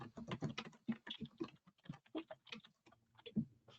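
A password being typed on a computer keyboard, rapid soft key clicks in an irregular run, close and quiet, with no talk.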